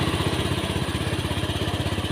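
A Honda Beat FI scooter engine runs with a rapid, even, close putter, its fuel-injection pulse loud and steady throughout with no clear rise in revs.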